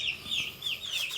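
Household chickens and chicks clucking and peeping close by in a home yard, repeated short high calls in a steady run with no talking.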